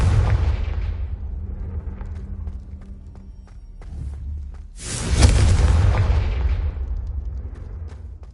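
A heavy, booming explosion from a Confringo fire spell in Hogwarts Legacy erupts suddenly midway and rolls off slowly over a steady low ambient rumble.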